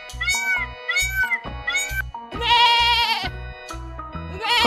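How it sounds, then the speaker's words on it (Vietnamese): A peacock gives a loud, drawn-out wailing call near the middle, with shorter animal cries before it, all over a steady thumping music beat. "Con công."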